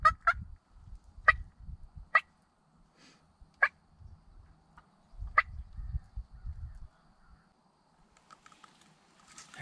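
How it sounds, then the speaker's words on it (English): A bearded wild turkey hen sounds sharp, sparse putting calls in a field during spring hunting season in Georgia, roughly six clipped notes spaced irregularly, over low rumbling handling noise and faint background rustle. "a hen has walked up, a bearded hen, and she's just putting"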